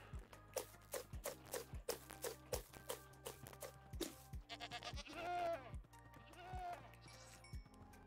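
Goats bleating in Minecraft, several short wavering bleats in quick succession, fairly close and mixed with soft clopping steps, with some talking in the background.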